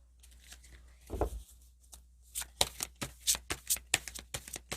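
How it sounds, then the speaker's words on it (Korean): Tarot cards are shuffled close and quietly in a calm room, with a soft riffle near the start and then a run of crisp, rhythmic card snaps and slides. "여러분들 조언 카드 뽑아볼게요"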